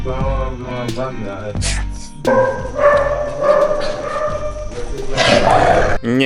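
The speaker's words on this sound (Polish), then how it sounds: "Ten starszy pies poczuł się zazdrosny i pokazał to temu drugiemu." Stray street dogs in Kutaisi, Georgia snarl, growl and bark loudly at each other close by, a rough, continuous scuffle with yelps, with voices mixed in.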